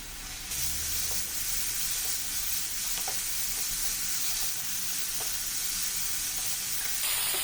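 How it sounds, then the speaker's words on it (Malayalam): Creamy chicken seasoned with pepper and salt sizzles and hisses steadily in a pan on a medium flame, with a few faint scrapes of stirring and no voices. "ഒരു മീഡിയം ഫ്ലെയിമിൽ ഒന്ന് രണ്ട് മിനിറ്റ് കൂടി ഒന്ന് ഇളക്കി കൊടുക്കാം"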